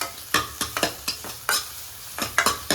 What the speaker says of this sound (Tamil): தக்காளி நல்லா வதக்கிட்டே இருங்க